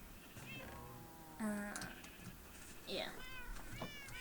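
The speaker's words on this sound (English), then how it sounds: "Oh, right, cats." Several cats meow at close range, a few distinct rising and falling calls spaced a second or so apart over a quiet indoor background, while a person briefly speaks.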